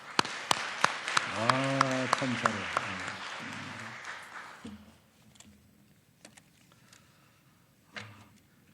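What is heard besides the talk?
congregation applause in church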